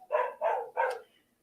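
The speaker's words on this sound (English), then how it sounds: "sorry for the dog barking" A dog barks three times in quick succession indoors, close and moderately loud, each bark short and evenly spaced, then silence.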